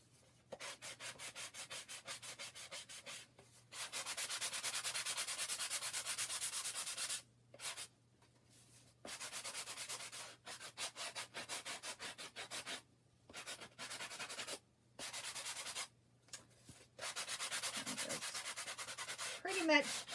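Sandpaper rubbing the edges of a chalk-painted spring bee craft to distress it, long stretches of steady scratchy rubbing broken by short silent gaps, close and quiet, without speech.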